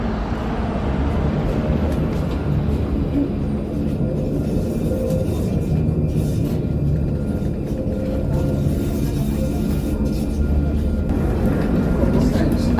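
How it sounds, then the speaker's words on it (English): The Opicina Tramway tram runs through Trieste with a steady, loud rolling rumble and rail noise throughout, while a voice speaks over it. "Welcome to the Opicina Tramway."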